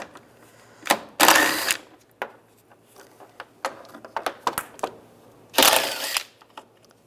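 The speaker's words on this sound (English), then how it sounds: "We're going to take these bolts out, use a 10mm socket." A 10mm socket ratchets out bumper bolts on a 1999-2005 Volkswagen Jetta, giving sharp close clicks and two longer bursts of rapid ratcheting amid scattered metallic taps.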